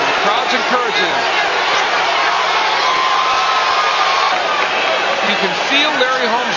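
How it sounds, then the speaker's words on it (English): Dense, steady roar of a boxing crowd cheering and urging on a fighter during a heavyweight bout, loud and continuous throughout with no break, faint whoops rising from the mass of voices. "The crowd's encouraging him"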